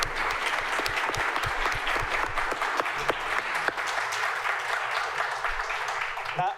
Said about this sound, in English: Please join me in having a round of applause for all five of our speakers